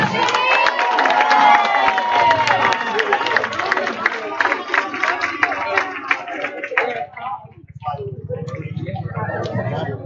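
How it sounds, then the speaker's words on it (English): Spectators at a 1A state softball semifinal clap and cheer for the Hornets team during a trophy presentation, a loud, dense wash of applause and shouts that eases into scattered clapping with voices mixed in. "Let's give the Hornets one more round of applause."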